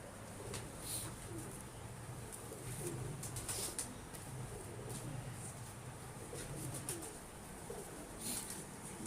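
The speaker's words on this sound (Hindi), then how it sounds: "ये भी बड़ा कबूतर है, बाउसा वाले प्योर कबूतर है।" Pigeons coo softly in the background, low repeated murmuring calls mixed with faint chirps and ambient noise.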